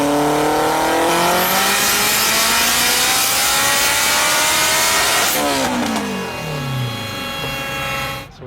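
A turbocharged Acura RSX engine held at high revs for a launch, a loud sustained roar that rises steadily, then drops in pitch as the car pulls away, fading slightly near the end.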